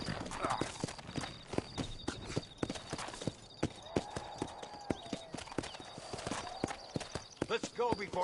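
Hooves clip-clop in a quick, uneven rhythm as horses gallop in the Red Dead Redemption video game, with sharp close hoof strikes and a whinny amid game sound, while a voice talks over part of it.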